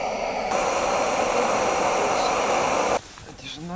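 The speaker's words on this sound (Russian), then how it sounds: "Комета? Это самолет, Миша." A jet airplane passes overhead at night, a steady broad rushing roar that cuts off abruptly after about three seconds, leaving quiet outdoor ambience.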